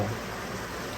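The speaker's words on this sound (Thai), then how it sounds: "เสียงฝนอาจจะดังหน่อยนะครับ" Rain falling in a dense, loud and unbroken hiss that fills the whole moment, with no voices.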